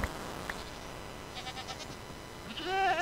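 Goat horn calls from a multiplayer video game, a harmonic bleating blare rising near the end of the clip over a low noisy background, with a brief bright tone earlier.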